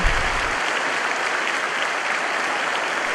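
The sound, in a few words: congregation applause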